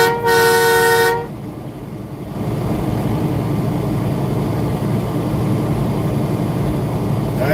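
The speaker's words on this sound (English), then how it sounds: "I done honked the horn." A truck's air horn gives one loud, harmonically rich blast of about a second, followed by steady engine and road rumble that carries on to the end.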